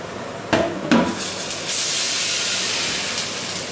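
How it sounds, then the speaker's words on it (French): A hot frying pan, used while making a Lyonnaise salad, is dropped into a sink with two sharp metallic clanks. A steady, loud steam hiss follows and continues to the end. "Je jette la poêle à frire."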